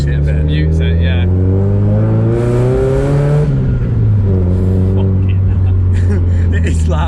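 A straight-piped big-turbo Mazda MX5 engine revs loudly and close, its raspy tone climbing and falling through several sustained pulls with a brief spike of turbo noise mid-rev.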